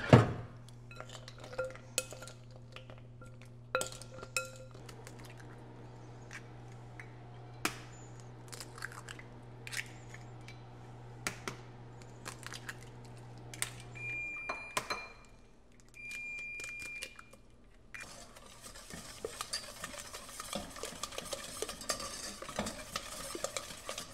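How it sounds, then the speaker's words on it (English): Chocolate melting in a pot on the stove is stirred steadily, a spoon scraping and clinking against the metal pot over a low steady hum, followed by louder clattering handling of the pot. "I'm gonna stir my chocolate."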